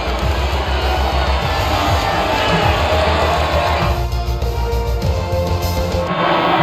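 A crowd cheers and whoops in a continuous, loud roar at the podium after a race in the F1 25 game, with the din dropping somewhat near the end.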